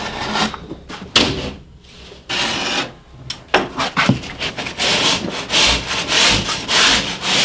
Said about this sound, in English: We mark the angle with a chalk line and cut with a utility knife.